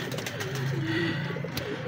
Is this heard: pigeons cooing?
yes